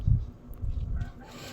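A pet chicken clucking and calling for food, low throaty bursts at the start and again midway, fairly close, with no talk over it.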